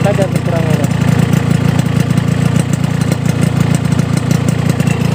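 A small two-stroke motorcycle engine idles steadily and close by through a Total Grand Prix exhaust, a soft, rapid burbling note that holds even throughout with no talking.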